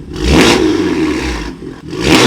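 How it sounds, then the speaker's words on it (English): A turbocharged BMW M3 engine revs hard in two loud, close surges, whooshing and roaring with a rough mechanical edge. A short dip separates the two bursts. "The turbo sounds!"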